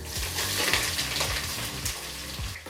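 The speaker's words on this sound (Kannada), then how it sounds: "ಈರುಳ್ಳಿ ಜೊತೆ ನಾವು ಸರಿಸುಮಾರು ಏನಿಲ್ಲ ಅಂದರೂ ಒಂದು ಏಳರಿಂದ ಎಂಟು ನಿಮಿಷಗಳ ಕಾಲ ಚೆನ್ನಾಗಿ ಫ್ರೈ ಮಾಡ್ಕೋಬೇಕಾಗತ್ತೆ" Onions, slit green chillies and curry leaves fry in hot oil in a pan for aloo biryani, giving a continuous loud close sizzle broken by repeated stirring scrapes.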